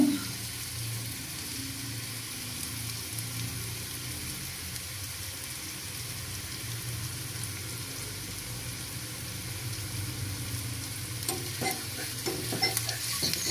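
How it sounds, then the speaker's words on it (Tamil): Tomato chutney sautés in a pan, a steady soft sizzle and frying hiss running throughout, with light scraping of stirring growing busier and clattery toward the end. "கொஞ்சம் நல்லா வதங்கட்டும்."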